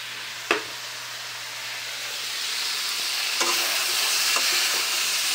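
Shaak bhaja, leafy greens frying in a pan, gives a steady sizzle that swells slightly over time, with a few utensil scrapes and taps from stirring and no talking.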